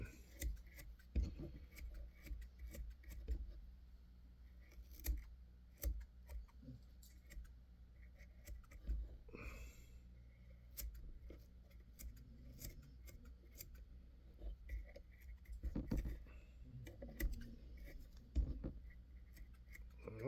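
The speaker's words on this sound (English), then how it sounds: "Got my cheap Walmart scissors." Sharp, irregular snipping of cheap scissors trimming a deer hair fly body for a green drake fly, close by, short metallic cuts scattered across the stretch with quiet gaps, no voices.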